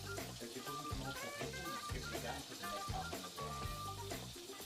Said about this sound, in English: I'm hearing the butter and sage start to sizzle